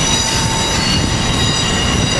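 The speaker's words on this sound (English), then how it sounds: "Here we got ACS 603 leaving." An Amtrak ACS-64 locomotive train departing a commuter station, a loud, close, steady roar of rolling wheels with high metallic squeal and tonal whine running throughout.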